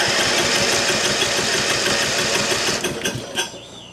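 A 1991 Mastercraft riding mower engine runs loud and close with a rough, pulsing idle, then sputters and surges briefly near the end before steadying.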